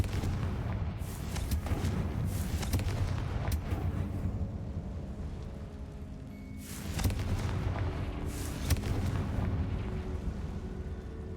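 A Confringo fire spell explosion in the Hogwarts Legacy video game, heavy booming blasts with rumbling decay in a tomb setting, several bursts over the span at moderate level.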